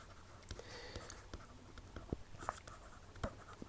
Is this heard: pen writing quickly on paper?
yes